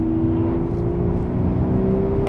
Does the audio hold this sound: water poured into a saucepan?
no